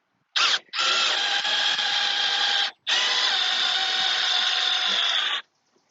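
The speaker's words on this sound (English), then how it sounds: "I'm just basically letting the tool spin it, and then it will spin and eventually start to catch." A power tool spins a headlight screw in while an LED headlight is fitted on a Dodge Ram 2500 pickup, a close, loud whirring drill buzz in two long bursts after a brief blip, with short pauses between them.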